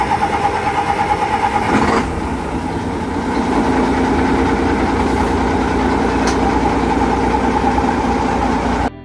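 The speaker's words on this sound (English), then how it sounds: "Love this old Gardner engine. It's so quiet you can actually talk over the top of it." An old Gardner marine diesel engine runs aboard a vessel, a steady, loud mechanical drone with a rhythmic low knocking that continues evenly throughout without voices.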